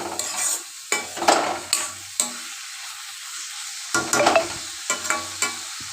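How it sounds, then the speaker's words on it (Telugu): Onions and curry leaves frying in a pan while being stirred, giving a soft sizzle broken by repeated scraping stirs at an uneven rhythm, close and fairly quiet, with no voices. "కలుపుకుంటూ వేగనివ్వాలి."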